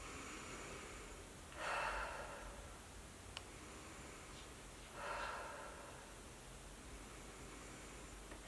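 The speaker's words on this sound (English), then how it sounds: "You're going to take 3 breaths in." Two slow, deep inhalations, each a soft airy rush rising and fading, separated by quiet low hiss, close and faint with no talking.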